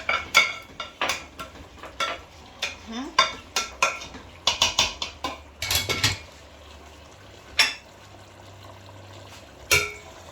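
A spoon stirs plantain porridge in a pot, making irregular clinks and scrapes against the metal. The strokes come in close bursts, then thin out to a few isolated knocks over a low background.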